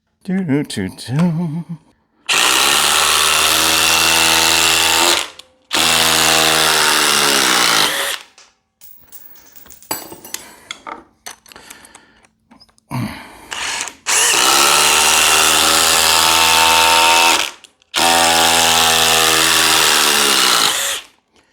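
A Dewalt 860 impact driver drives 10-inch TimberLok screws in four loud sustained bursts of hammering rattle, each lasting a few seconds, with short pauses and quieter handling noise between runs.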